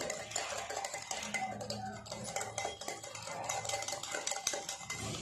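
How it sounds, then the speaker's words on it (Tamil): An egg beater whisks Dalgona coffee in a bowl, making a fast, continuous clattering whir with metallic ticks. The sound is fairly quiet and steady throughout, with no talk. "இந்த எக் பீட்டரை வச்சு நல்லா அடித்து மிக்ஸ் பண்ணணும்."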